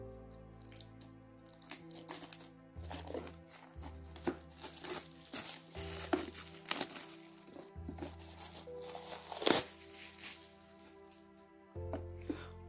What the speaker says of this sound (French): je vais déjà défaire l'emballage